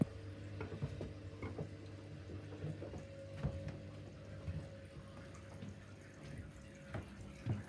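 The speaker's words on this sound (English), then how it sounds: "that's now draining the radiators out." Water draining out of household radiator pipes through an opened joint: quiet trickling and irregular dripping with small knocks and clicks, close and faint, without talk.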